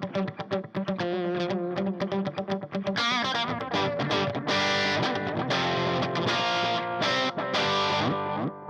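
Distorted electric guitar through an Orange 8030 amp into an Orange 212 closed-back cabinet with Vintage 30 speakers, giving a tight rhythm tone: choppy chords at first, then sustained riffs and single-note lines, loud and close with no voices.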